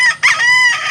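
A big rooster over a year old crows once, loud and close, in a short, harmonic call with a brief break near the start.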